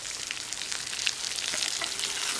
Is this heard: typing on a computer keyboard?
no